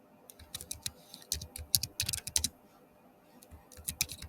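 Fingers typing on a computer keyboard, close, quick irregular clicks in short bursts with brief pauses, fairly quiet.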